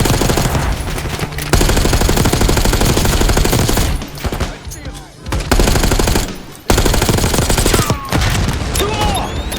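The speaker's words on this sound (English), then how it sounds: "Give him some cover fire, Case." Sustained automatic cover fire in Call of Duty Black Ops 6 rattles loud and close in long bursts, broken by a few short pauses before the shooting resumes.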